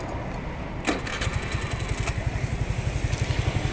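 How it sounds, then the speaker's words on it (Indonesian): A Suzuki Address scooter engine is started and settles into an even putter at idle, with the CVT running, the rhythmic pulses close and moderately loud, and no voices over it. "pastikan kondisi suara mesin dan CVT itu normal. Nah, normalnya itu seperti ini ya."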